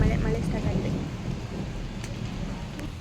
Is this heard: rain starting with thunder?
yes